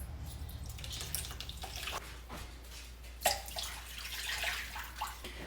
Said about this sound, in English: Now he's putting the water into it.